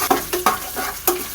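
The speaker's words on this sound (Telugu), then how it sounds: "ఇప్పుడు చింతపండు గుజ్జు కూడా దాంట్లో యాడ్ చేసేస్తున్నాము" Tamarind pulp goes into ginger-garlic paste sizzling in a pan while a pickle of bitter gourd is made, with four or five sharp stirring scrapes over a steady, close frying hiss.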